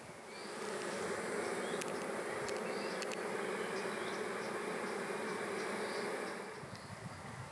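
Honey bees swarming over hive combs during queen rearing give a steady, dense buzzing hum close by, with small flickers of wingbeats, fading slightly at the end.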